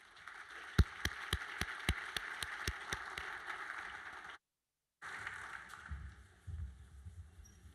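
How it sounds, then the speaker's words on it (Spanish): Audience applause for speaker Alejandro Ferreiro, a steady patter of many hands filling the room, broken by a brief silence and then trailing off into lower room noise. "Les pido un gran aplauso para Alejandro Ferreiro."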